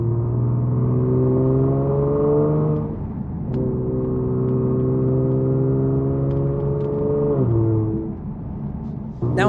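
Genesis G70 sedan with a Borla exhaust, in sport mode and third gear, accelerating steadily with a loud droning engine note that rises, breaks off briefly, then climbs again before easing near the end.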